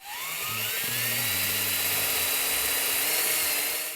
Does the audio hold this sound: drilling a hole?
yes